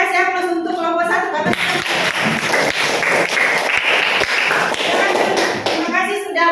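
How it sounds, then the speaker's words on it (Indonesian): A classroom full of students breaks into applause for a discussion group, a dense patter of clapping lasting several seconds between stretches of someone talking. "kita juga kasih aplaus untuk kelompok 1"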